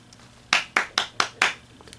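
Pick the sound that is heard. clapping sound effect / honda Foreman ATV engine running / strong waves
clapping sound effect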